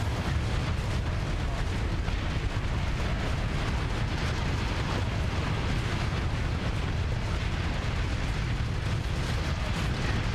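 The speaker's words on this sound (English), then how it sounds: "Oh, look at all the missiles coming out of that thing." A dense missile barrage in Starsector's space combat, many explosions merging into a continuous, loud, roaring wall of bursts and booms that never lets up.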